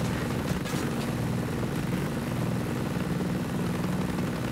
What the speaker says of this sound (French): Je sais que c'est un hélicoptère,